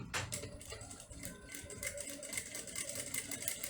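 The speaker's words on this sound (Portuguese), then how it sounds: "eu venho aqui e vou fazer uma costura bem rentinha à marcação" A sewing machine runs a short line of stitching right along a marked line on fabric for a wallet, a quiet, close, rapid rattling hum that stays fairly even throughout.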